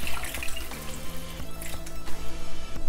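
Water is poured and swished inside a masala grinder jar to rinse out leftover ground spice paste for a bitter gourd curry, with close, splashy sloshing and dripping in irregular bursts.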